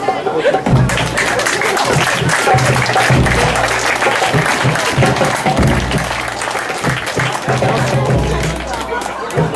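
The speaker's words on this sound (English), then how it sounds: "can we have a round of applause" Loud, sustained applause from a large crowd, dense clapping filling the whole stretch with a low rumble and scattered voices underneath.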